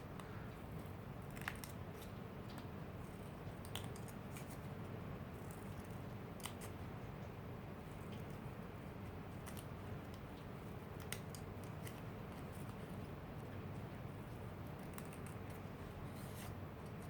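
Small curved nail scissors snip quietly up close through a paper flower embellishment, making soft, scattered clicks at an unhurried, irregular pace.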